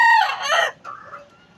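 A single gamecock rooster crows up close, a loud cock-a-doodle-doo followed by a softer trailing call, with nothing else around it.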